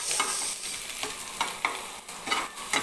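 Sardines being sautéed in a pan, a constant sizzle overlaid with repeated scraping and stirring strokes of a spatula, close and moderately loud, without any voices.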